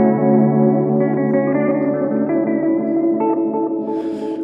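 Delay repeats from a Strymon El Capistan tape delay pedal heard on their own, a dense wash of sustained, wavering guitar echoes that blur together and hiss brightly at the end, loud and without talk.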